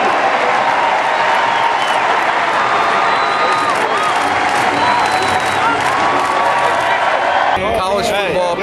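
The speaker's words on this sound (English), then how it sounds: "let's give a big round of applause to our own Greg Reed" A large crowd applauds and cheers in a loud, sustained wash of clapping, with voices and whistles mixed in.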